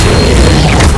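The Levioso spell is cast in the video game Hogwarts Legacy, producing a brief, loud, dense boom-like magical whoosh filled with low rumble.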